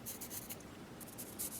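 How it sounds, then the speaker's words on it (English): Pencil marking on carved wood: a soft, continuous scratchy rubbing of graphite on a wooden snowman carving, close and faint, with slight rhythmic strokes. "Put that pencil mark in here."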